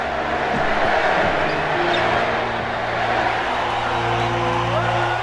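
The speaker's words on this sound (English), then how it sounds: "The crowd start cheering, Larry, Larry, Larry." A basketball arena crowd roaring and chanting Larry Bird's name, a dense, loud, sustained mass of voices with a steady rumble underneath.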